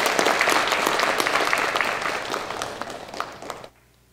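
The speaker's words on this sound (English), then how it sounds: "Let's give us another round of applause." Sustained audience applause at a business conference on Myanmar, dense steady clapping filling the room, gradually thinning before stopping abruptly near the end.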